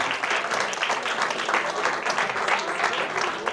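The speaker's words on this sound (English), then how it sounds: "Please applaud" An audience at a school reunion event claps in steady, dense applause that fills the room at moderate loudness and holds evenly throughout without a break.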